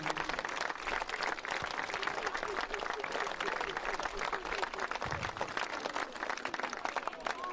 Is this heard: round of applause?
yes